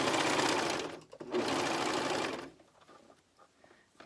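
A coverstitch machine sews a knit neckband in two loud, steady bursts, the second longer, then stops and leaves only faint handling noises.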